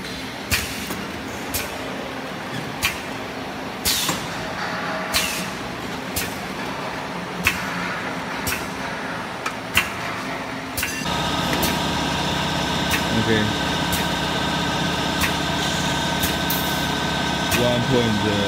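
A 2016-design perfume filling machine test-running on 2-30ml bottles, giving regular mechanical clicks and thumps over a motor hum that becomes a louder, steadier whir partway through.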